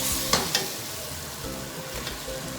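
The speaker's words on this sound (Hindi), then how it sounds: "2 टेबलस्पून भर के जिंजर गार्लिक पेस्ट को अच्छी से मिक्स करने के बाद मैं गोश्त ऐड कर रही हूँ।" Mutton pieces fry in a pan with ginger garlic paste for a mutton biryani, giving a steady close sizzle broken by a few sharp clicks and scrapes of stirring early on.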